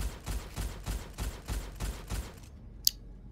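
Porcupine shotgun from the video game Gunfire Reborn firing eight rapid, evenly spaced booming blasts, loud and close, before cutting to silence with a single sharp click.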